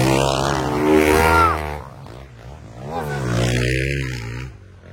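An off-road motorcycle races through the woods at a motocross event, its engine rising and falling in loud, close revving sweeps with a brief lull in the middle.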